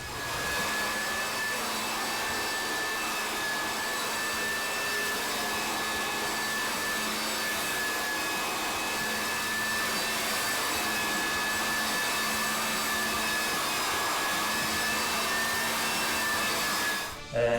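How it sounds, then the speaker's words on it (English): A duckbill radiator edger floor sanding machine runs continuously for the whole stretch, a loud, steady motor whine with a constant high-pitched tone and an even grinding hiss, stopping abruptly at the end. "is called a duckbill radiator edger, for obvious reasons"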